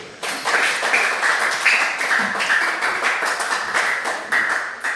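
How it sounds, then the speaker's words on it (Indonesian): Applause from a school classroom of students, a sustained burst of many hands clapping in a fast, dense patter, fairly loud and close, swelling briefly and continuing for several seconds. "Oke, kita beri aplaus dulu"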